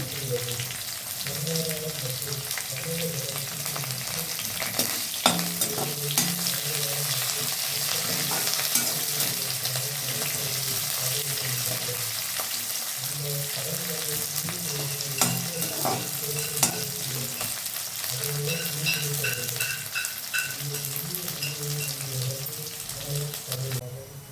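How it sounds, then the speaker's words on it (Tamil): Close, steady sizzling and crackling of onions, green chilies and curry leaves sautéing in a pan, with occasional stirring clinks and scrapes, and no talking. "வெங்காயம், பச்சை மிளகா, கருவேப்பிலை எல்லாத்தையும் ஒன்றாவே போட்டு நல்லா வதக்கி வச்சுருங்க"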